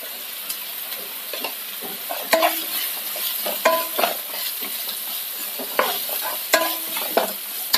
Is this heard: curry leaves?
yes